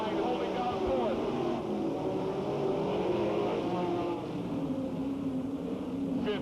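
Late model stock cars race at Hales Corners Speedway in 1986, their engines droning continuously at a distance under a race announcer's running commentary.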